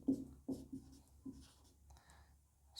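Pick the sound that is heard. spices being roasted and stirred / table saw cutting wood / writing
writing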